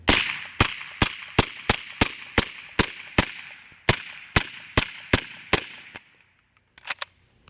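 Omega MP5 submachine gun firing with malfunctions, a string of sharp loud single shots in uneven rhythm, about fifteen in quick succession, then a pause and a few faint clicks and rattles.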